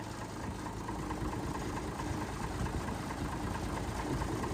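A car engine idles steadily after a fuel float repair, a dense low rumble with constant vibration throughout, close and fairly loud with no talk.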